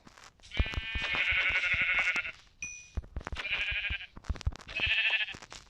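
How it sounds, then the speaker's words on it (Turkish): Three bleats from a sheep in Minecraft, each a couple of seconds long, separated by short pauses, with soft thumping footsteps beneath. "Şuradan koyun buldum"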